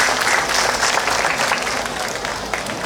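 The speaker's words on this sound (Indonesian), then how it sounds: "Tepuk tangan untuk Mas Peggy." Crowd applause at the Kresnayana XII festival in Blitar, dense steady clapping from many hands filling the space, holding loud and even throughout with a slight dip near the end.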